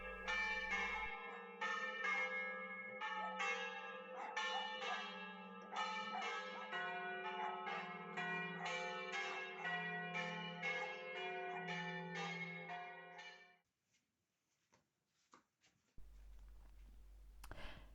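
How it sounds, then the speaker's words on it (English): Bells of a medieval bell tower in Tuscany peal in a dense, overlapping clangor of repeated strikes, ringing loud and steady for about thirteen seconds before abruptly falling silent, leaving only faint ambient hush. "this is our medieval bell tower"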